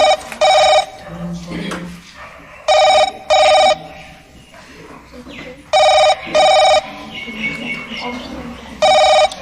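A landline-style telephone rings in four separated double bursts during a phone-a-friend call on a classroom quiz game modeled on a TV quiz show, with people talking quietly between the rings.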